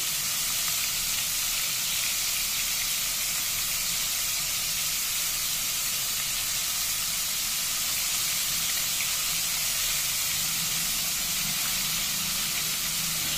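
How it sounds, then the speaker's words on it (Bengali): Bombay duck (loitta fish) frying in hot oil, a steady, dense sizzle and hiss that carries evenly throughout with no talking. "বেশ ভালোভাবে ভেজে নেবো মাছগুলো একটু।"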